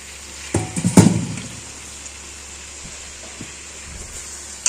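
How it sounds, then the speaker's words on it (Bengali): A little water poured into simmering chicken korma on full heat, a brief burst of splashing and sizzling lasting about a second, then fading to a quiet background hiss. "সামান্য জল দেবো এর মধ্যে"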